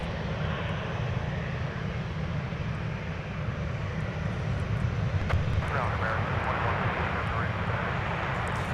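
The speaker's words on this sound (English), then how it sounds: "That was a beautiful takeoff from the A350" An Airbus A350 taking off at Minneapolis–Saint Paul airport, a broad steady jet roar from a distance that swells slightly as the aircraft climbs, with faint radio talk in the background.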